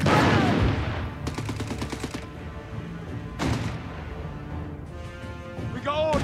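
Bursts of rapid gunfire and heavy impacts fill a Company of Heroes 3 battle, with machine-gun rattles in several loud volleys, mixed with shouted voices.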